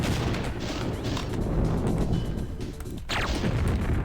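Chaingunner enemies in the game Doom fire their chainguns amid dense, continuous game combat noise, with steady booming gunfire and crashes filling the whole stretch.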